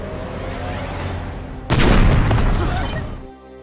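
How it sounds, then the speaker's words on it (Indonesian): Two grenades go off in an action film as one big explosion: a sudden loud boom bursts in after quieter rumbling and rolls out for over a second before cutting away. "Cherry membawa 2 granat hingga terjadilah ledakan besar"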